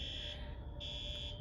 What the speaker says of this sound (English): it's kind of worrying me about the alarm going off